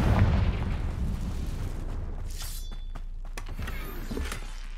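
A Confringo fire spell detonates in Hogwarts Legacy, giving a heavy low boom up front that rumbles on under a steady roar, with a few crackling bursts following later.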